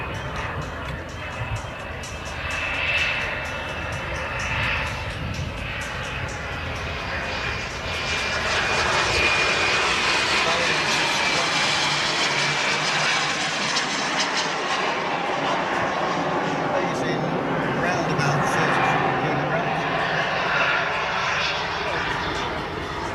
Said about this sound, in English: Just speeding up there on the lower Vulcan, coming into the turn